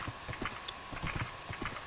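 Video game horse galloping, with a quick, rhythmic clip-clop of hooves running steadily throughout at low volume, heard alone.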